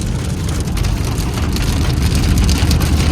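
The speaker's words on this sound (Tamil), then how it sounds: "மழை மழை வருது இடி வருது" Steady heavy rain pours down continuously in Saudi Arabia, a dense hiss loud and close, with a low engine-like rumble underneath; no distinct thunderclap stands out.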